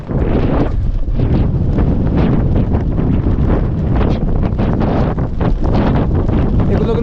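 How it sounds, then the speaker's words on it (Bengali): Strong mountain wind in a Nepali hill village buffets the microphone in loud, continuous rumbling gusts that never let up. "আর সেই সাথে কি বাতাস"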